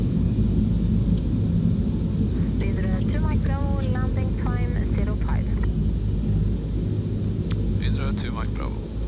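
A Widerøe airliner rolls down the runway after landing in Arctic Norway, a constant broad roar and rumble heard from inside, with cockpit voices speaking over it.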